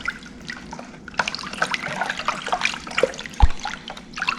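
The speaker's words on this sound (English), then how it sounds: "Kind of stir up in there till it dissolves" Table salt is stirred into a container of water for a brine, making soft close-up sloshing and trickling sounds with a few small drips, gentle and uneven.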